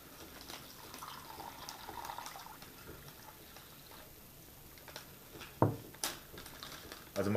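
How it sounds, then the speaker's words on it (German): Water is poured into a US Army MRE meal bag, a soft, quiet trickle and splash under light background noise, ending in a few sharper crinkles and knocks from the bag. "Ich packe mal zuerst das Wasser rein."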